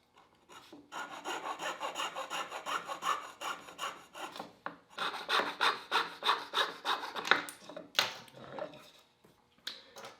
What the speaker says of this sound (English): I'm going to use a fretting saw to cut off that excess.